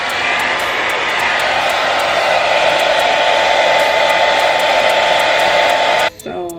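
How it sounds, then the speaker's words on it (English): Hair dryer blow-drying a 24-inch deep wave frontal wig, a loud steady whirring blast held close for about six seconds before cutting off abruptly. "So for the last layer, I'm gonna go ahead and just blow dry it."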